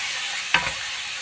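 Chicken frying in a pan in a home kitchen, a soft steady sizzle with a brief stir or clatter of the pan midway, close and moderately quiet, no talking.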